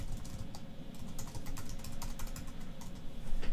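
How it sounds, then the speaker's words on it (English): Fingers type on a computer keyboard while text goes onto an ebook cover image, a quick, uneven patter of close, crisp keystrokes with no talking. "and just start typing in."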